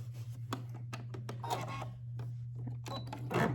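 A sewing machine stitches binding onto a quilt, a steady motor hum under rapid, uneven bursts of mechanical clicking and tapping.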